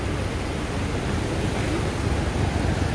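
The flooded Ipanema River at Santana do Ipanema, Alagoas, rushes past near a bridge in a steady, loud, roaring wash of water that doesn't let up, with no talking.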